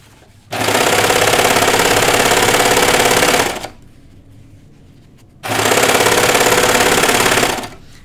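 A serger overlock sewing machine trims and stitches fabric for pull-on jeans in two loud, steady, fast-whirring runs of about three and two seconds, separated by a short quiet pause.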